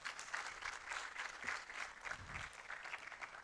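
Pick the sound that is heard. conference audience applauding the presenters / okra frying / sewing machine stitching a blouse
conference audience applauding the presenters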